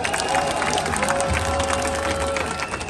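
Applause and cheering from a large audience at a formal gathering, a dense, continuous wash of clapping with crowd noise, loud and steady throughout.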